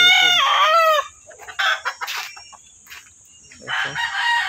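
Backyard chickens make a loud rooster crow at the start, followed by scattered nearby clucks and softer fowl calls, then another burst of clucking toward the end, with no talking over them.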